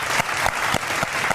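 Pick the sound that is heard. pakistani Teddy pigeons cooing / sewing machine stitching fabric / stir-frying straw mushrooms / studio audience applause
studio audience applause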